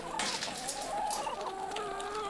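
Cartoon chickens in an animated children's series cluck and squawk close up, a busy run of calls over soft tonal background sound.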